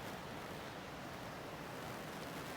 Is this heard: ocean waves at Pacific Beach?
yes